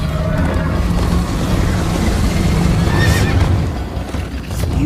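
Horse in the Minecraft Story Mode video game neighing and galloping, a loud whinny over a dense rumble of hooves and chase action, continuous and close.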